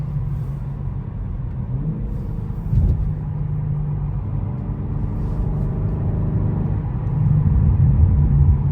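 BMW M4 pulling hard under acceleration, a steady loud engine drone and road rumble that builds slightly toward the end, close and continuous with no voices.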